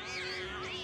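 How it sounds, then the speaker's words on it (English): Cats meowing in the video game Final Fantasy VII Remake, a single close, fairly faint drawn-out meow with a wavering pitch, no talk. "Badger lives with a bunch of cats."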